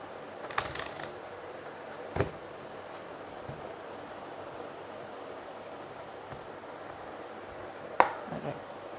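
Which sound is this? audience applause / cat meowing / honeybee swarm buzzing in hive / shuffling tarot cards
shuffling tarot cards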